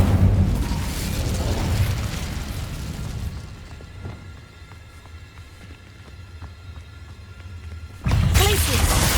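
Fire spell cast in the Hogwarts Legacy video game, a loud rumbling whoosh at the start that fades into a quieter stretch with faint clicks, then a sudden loud burst near the end.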